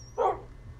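A single short bark from a pet dog in Minecraft PE, clear and close against a quiet low background hum, nothing else following.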